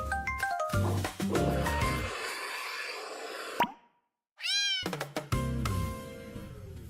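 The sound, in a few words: cat meowing in a game trailer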